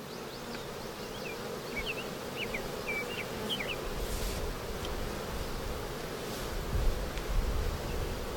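Honey bees buzz loudly and continuously around an open hive, a dense, close drone with some individual bees zipping nearby and no voices.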